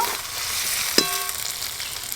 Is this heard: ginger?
yes